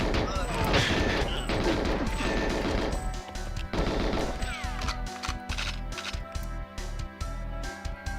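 Gunfire in a retro video game, rapid bursts of shots and crashing impacts dense in the first half, then sparser sharp cracks over a steady game soundtrack.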